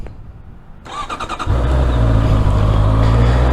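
Honda CBR650R E-Clutch motorcycle with a quiet stock exhaust: a starter whirs briefly, then the engine catches and settles into a steady, muffled idle close by.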